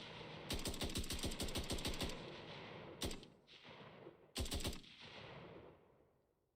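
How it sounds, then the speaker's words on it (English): An assault rifle in an Unreal Engine 5.7 demo fires a rapid automatic string of about a dozen shots, then one single shot, then a short tight burst, each loud and close with fading echo. "The assault rifle shows off the cycle fire modes: single, burst,"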